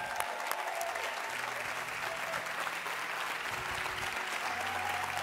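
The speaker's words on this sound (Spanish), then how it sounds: "¿por qué no le dan un aplauso de nuevo al Dr. Chan?" A church congregation breaks into sustained applause, dense and steady throughout, filling the room without any lull.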